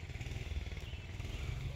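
A Manco Dingo mini vehicle's small engine runs steadily with a low, chugging putter and faint clatter, fairly quiet and unbroken, with no talk.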